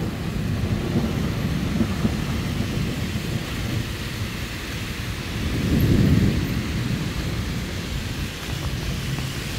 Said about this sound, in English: Wow, you heard that thunder?